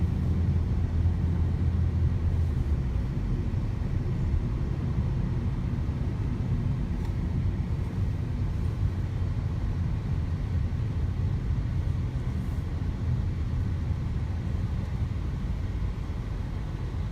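A car drives through traffic in Chennai, India, with a constant low road and engine rumble and broadband noise heard from inside the vehicle, steady and unbroken, with no talk.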